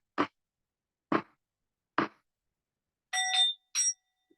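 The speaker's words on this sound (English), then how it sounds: "So I don't know if you hear the bell." For an evening chant, three dull knocks are followed by two bright, ringing bell strikes that fade quickly, heard alone in a quiet room.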